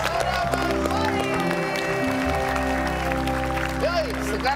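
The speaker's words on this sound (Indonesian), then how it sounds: "tepuk tangan dulu untuk semua teman-teman yang sudah berlari" A crowd applauds runners after a run event, a spread of clapping under steady tonal background sound and a voice speaking over it.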